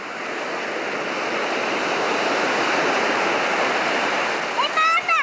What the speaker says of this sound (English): We're at the beach.